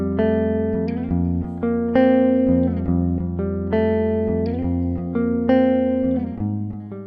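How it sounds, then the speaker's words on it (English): Jangly electric guitar through the Amplitude plugin, played over a 5/4 beat: bright, ringing strummed chords that repeat in phrases of sustained, overlapping notes, loud and close with no voices. "So I got a super jangly guitar tone and layered it over this 5/4 beat."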